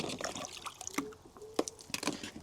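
Water dribbles and drips from a hose pulled out of a hot tub's filter system, with soft irregular splashes and a few sharper drops close by, fairly quiet and with no talk.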